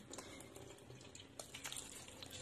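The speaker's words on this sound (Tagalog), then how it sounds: "Tapos lagyan natin ng tubig." Water is poured into a cooking pot holding milkfish head and black beans in a home kitchen in Taiwan, a faint, steady trickle that runs throughout.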